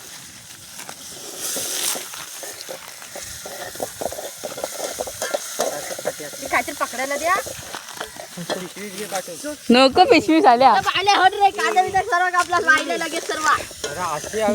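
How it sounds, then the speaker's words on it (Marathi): Spices crackle and sizzle loudly in hot oil on a wood-fire stove, growing more intense midway, while people talk nearby. "आता फोडणी देतोय"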